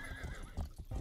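A horse in a video game, Grand Theft Horse, gives a brief whinnying neigh with clip-clopping hooves beneath it, close and fairly faint within a busy game soundscape.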